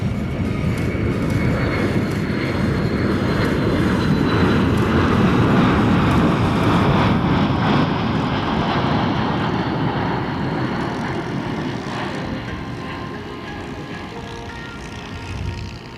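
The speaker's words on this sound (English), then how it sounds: "One more look here, folks, at the E-4B Advanced Airborne Command Post from the left." A Boeing E-4B Advanced Airborne Command Post jet flies past at an airshow in London, Ontario, a steady loud broadband engine roar that slowly fades as it moves away, with no talk over it.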